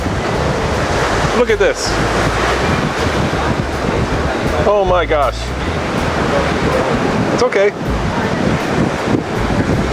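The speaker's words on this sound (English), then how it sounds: "Secluded mini beach, and look how beautiful this ocean is. A little windy, of course" Ocean surf and gusty wind at a small secluded beach, a loud continuous roar of waves with heavy wind buffeting the microphone, while a person talks briefly over it.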